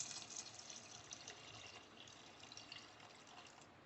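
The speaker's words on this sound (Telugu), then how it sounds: "ఇందాక బియ్యం నానబెట్టుకున్న వాటర్ ఉన్నాయి కదా, అవి పోసేసుకున్నాం." Rice soaking water is poured into a cooking pot during mushroom biryani preparation, a continuous close splashing fill that holds steady and slowly eases off, with no voices.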